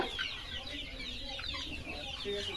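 Local chickens on a poultry farm cluck and chatter as a dense, continuous flock, steady and moderately loud throughout with overlapping calls and no clear pauses.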